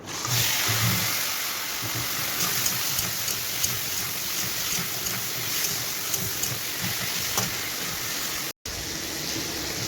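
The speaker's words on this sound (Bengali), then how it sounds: "কাঁকড়া কটা ভেজে নেবো।" Crabs rubbed with salt and turmeric sizzle in hot oil in a home kitchen, a steady dense crackle and hiss that runs near and loud throughout, with one brief dropout near the end.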